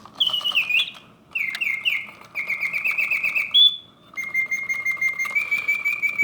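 A Reuge double singing bird cage automaton warbles a bright mechanical birdsong of trills and sliding whistles, continuous and close, over a faint whirring movement.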